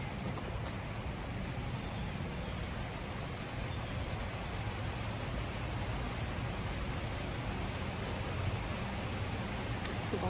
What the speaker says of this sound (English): Wow, it just started raining.